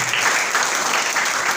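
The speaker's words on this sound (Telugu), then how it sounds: "చప్పట్లు కొట్టి ఒకసారి దేవుడు నామని" A church congregation claps their hands together, a dense, loud burst of applause that runs unbroken for the whole moment.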